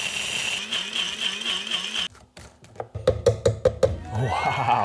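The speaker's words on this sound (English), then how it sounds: "I'm gonna drop it into my blender bowl." A blender bowl receives dried ribeye steak to be ground into powder: a motor hums at first, then after a pause come a series of sharp knocks and rattles, followed by renewed whirring.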